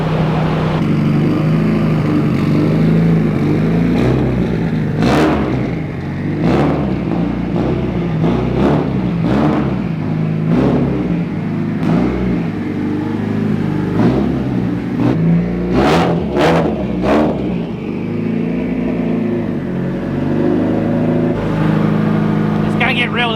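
SR20DET-powered drift car with new production turbos and manifolds revving hard on an indoor dyno, a loud continuous engine roar with repeated sharp rev surges and pops over about twenty seconds.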